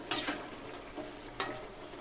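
Malabar spinach leaves being tossed in a pan over medium heat; a faint, quiet sizzle sits under two or three short, close scraping stirs of a utensil against the pan.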